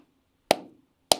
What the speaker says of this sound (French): Eh bien, moi, je vais applaudir.